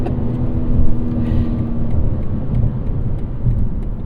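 A 2023 BMW M3 Competition xDrive with its inline-six engine runs at half throttle, giving a steady, loud, deep rumbling drone with a slight swell early on and no talk over it.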